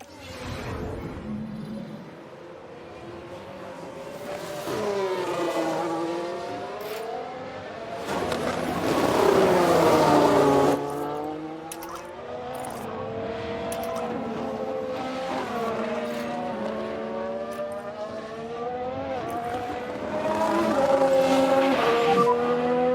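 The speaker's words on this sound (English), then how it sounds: "Just a bit too heavy on the brakes, and they've locked up." Race car engines in the F1 Manager video game, set in a 1991 season round, with tyres locking under heavy braking: rising and falling engine tones with squeals over roughly twenty seconds, loud and continuous.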